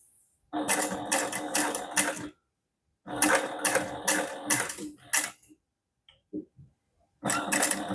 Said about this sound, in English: then you just top stitch using a 1/8 inch seam allowance